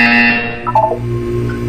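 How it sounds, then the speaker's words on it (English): A buzzer sounds in a Portal 2 test chamber, a steady electronic tone held for over a second. "You will hear a buzzer."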